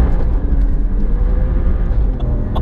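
An Alfa Romeo Giulia Quadrifoglio driven hard, its engine a loud, close, steady rumble and roar through the gear changes, with no talking.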